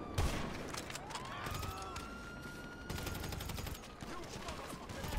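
Enemy gunfire in an online shooter game, with bursts of rapid shots and distant fusillades rattling throughout at moderate volume.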